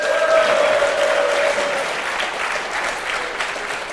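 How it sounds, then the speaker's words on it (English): An audience at an esports tournament match applauds in a steady wash of clapping, with a thin whistling tone riding over the start before the applause gradually eases. "Give him a cheer, give him that confidence he needs"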